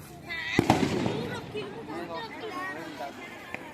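Fireworks and firecrackers burst during a Kartik Purnima festival night in Cuttack, with two sharp bangs early, a few scattered pops later, and constant crowd chatter throughout.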